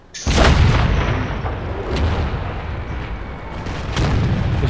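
A tank artillery gun fires in an online tank video game, a heavy booming blast followed by a long rumbling tail, with a second boom swelling near the end.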